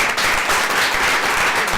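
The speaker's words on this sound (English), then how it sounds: "Can we clap for them?" Applause from a press conference audience after a post-legislative session briefing, a dense, steady wash of many hands clapping close by, filling the short moment without talk.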